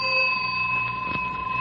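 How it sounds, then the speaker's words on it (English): A single bell rings out to open an old-time radio children's quiz show, its clear sustained tone ringing steadily over the whole moment without talk. "There's the bell that calls this classroom of the air to order"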